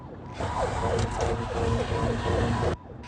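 A siren on an unmarked police patrol car switches on while the car chases a speeding SUV on a highway, loud and close. It gives a rapid rising and falling wail for about two seconds and then cuts off.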